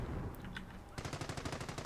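Machine gun fire in a WWII video game: after a brief softer stretch, a sustained rapid burst of evenly spaced shots rings out loud and close, with no talk.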